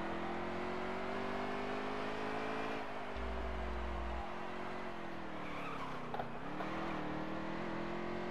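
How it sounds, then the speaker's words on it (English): Race car with a blown engine at Charlotte Roval in a racing video game, its strained, steady engine drone running continuously with tire skid and scrub noise rising in the second half, no talk over it. "I'm running a blown engine all the way around."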